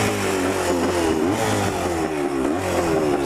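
A Yamaha engine runs on choke just after starting, a close, steady motor drone with slight rises and dips in revs.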